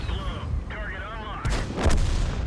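Tank cannon fire in the World of Tanks video game, two sharp broadband booms near the end, the second louder, following a stretch of warbling tonal game sound and engine rumble.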